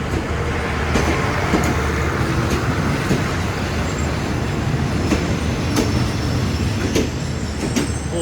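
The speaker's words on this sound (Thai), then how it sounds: "จอดเทียบที่สถานีสุราษฎร์ธานีแล้วนะครับ ขบวน 85 ซึ่งวันนี้ได้มีการพ่วงรถบอนทอนะครับ" Thai express train 85 pulls into Surat Thani station with a loud, steady rumble of rolling cars. Faint wheel clacks and squeals recur throughout, with no voices.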